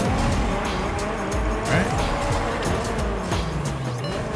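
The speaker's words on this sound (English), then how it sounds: "Started my drift. Clean little drift right through the middle." Car drifting in Rocket Racing with tire squeal and a rising skid screech layered over a continuous loud engine roar, close and sustained throughout, with brief sliding swells midway.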